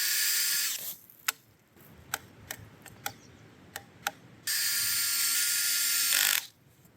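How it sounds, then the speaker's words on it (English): A power drill drives screws to mount a plate onto the small end of a log for an Alaskan chainsaw mill, two loud sustained whirring runs separated by quieter ticking and clicking between them. "we're going to mount our plate on the small side of the log first, making sure there's enough room to put the screws"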